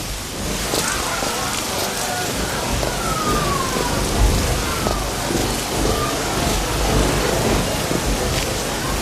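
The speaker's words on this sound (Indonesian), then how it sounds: "Lihat hujan ini." Steady rain falls in a broad, even hiss across the whole stretch, fairly loud and continuous with no clear breaks.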